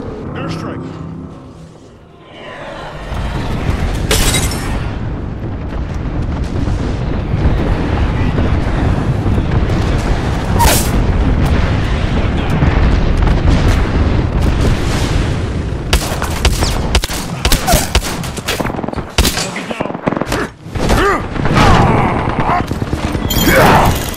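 Gibraltar's airstrike bombardment in the video game Apex Legends: a long rolling barrage of heavy explosions and booming blasts, loud and dense throughout, with sharper bursts toward the end and a player talking over it.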